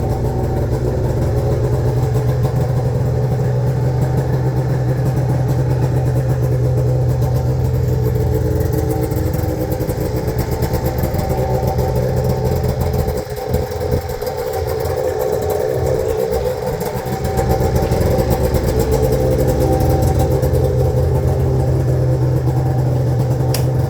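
A 1993 Arctic Cat Cougar 440 liquid-cooled snowmobile, a barn find, runs steadily at a loud idle with a low, even drone throughout, dipping briefly mid-way before settling back to its steady hum.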